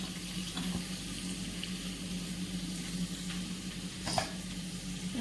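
Onion, green chili and curry leaves sautéing in a pan, a steady soft sizzle with a stir or scrape of the spoon, close and continuous with no talk.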